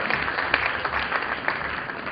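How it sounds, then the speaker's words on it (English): Incoming Rotary club presidents and their spouses applaud at a district event, a dense steady patter of many hands clapping, moderately loud and continuous without voices. "Please give yourselves a big round of applause."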